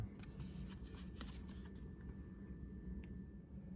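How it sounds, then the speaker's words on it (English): Baseball card, a 1985 Topps card, slides into a plastic sleeve with soft, close papery scraping and light plastic rustles over a low steady background hum. "Now let's put card number 30 into its sleeve."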